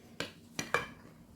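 Three sharp utensil knocks against a bowl while ingredients for homemade KFC-style chicken are mixed, spaced irregularly and fairly close, with quiet between them.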